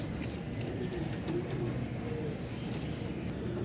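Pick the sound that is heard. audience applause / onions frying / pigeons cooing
pigeons cooing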